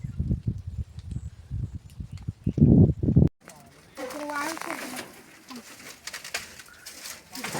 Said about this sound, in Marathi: तो पक्षी एक आला आहे बघा आणि परत क्याव क्याव क्याव करून ओरडायला लागला आहे